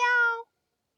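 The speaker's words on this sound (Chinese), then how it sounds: "有2只猫哦，喵喵。" A single short, clear cat meow sounds close by in the mountains and ends abruptly, followed by silence.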